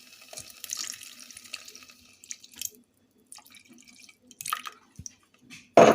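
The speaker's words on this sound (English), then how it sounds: "So I'm going to add some more milk now." Milk poured gradually into a butter and flour roux in a pot, a soft trickling, splashing pour that comes in several short bursts with quiet gaps between them.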